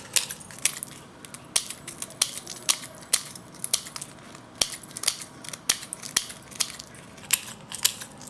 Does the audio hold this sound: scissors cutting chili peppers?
yes